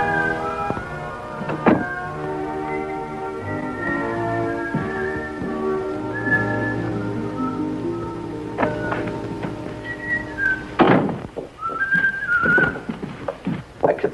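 A man whistles a tune in sustained, melodic notes, with a few thumps and a door-like knock breaking in near the end.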